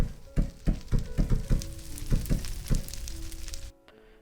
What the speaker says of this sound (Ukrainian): а старий звук зажигалки